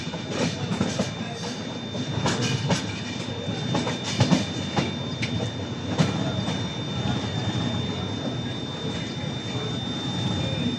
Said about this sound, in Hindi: ट्रेन काफ़ी ज़्यादा धीरे रफ्तार में जो है दमदम जंक्शन को जो क्रॉस कर रही है